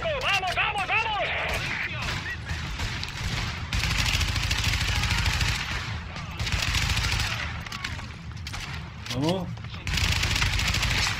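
Gunfire during a shootout in The Division: dense bursts of automatic rifle fire and single cracks in repeated volleys, loud and close, mixed with shouting voices and whistling effects.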